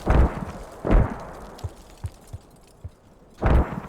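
Mortar shells landing in a video game match, three loud booming impacts spaced apart with quieter distant pops and thuds between them.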